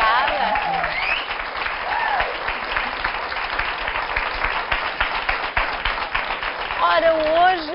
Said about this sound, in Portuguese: uma salva de palmas para os nossos doutores